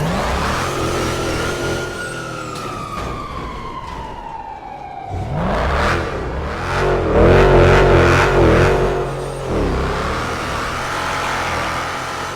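Dodge Ram pickup truck engine revving, a rising and falling whine that sweeps down, then a loud roaring burst of revs with rough rumble, close and forceful, no speech.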